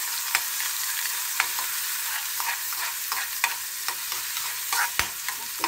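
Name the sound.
sautéing garlic in oil in a frying pan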